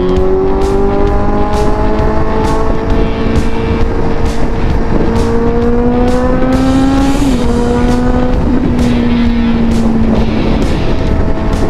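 Motorcycle engine droning steadily on an expressway among traffic, its pitch rising and falling with gear changes under constant loud wind rush, with a few tire or passing-vehicle sweeps.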